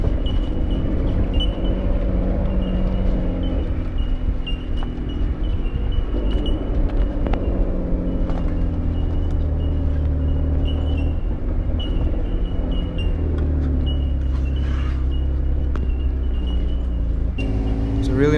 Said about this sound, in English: continued our drive through the forestry to get out towards Imbil State Forest